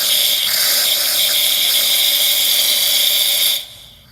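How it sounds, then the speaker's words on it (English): A La Pavoni Napolitana espresso machine's steam wand hisses loudly and steadily for about three and a half seconds, then quickly tapers away. "let's go ahead and make the steam"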